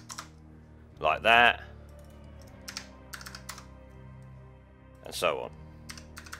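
Quick bursts of computer keyboard typing at close range, two short rapid runs of clicks separated by pauses, with someone talking between them.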